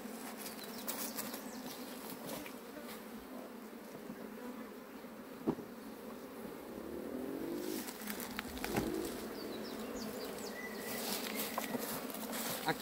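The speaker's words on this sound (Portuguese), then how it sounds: "E aí, ó, olha o tanto de abelha em cima, ó." Honeybees crowd over a hive at a queen change with a mango-branch swarm and a new honey super, making a steady soft buzzing hum with faint rustling and occasional clicks throughout.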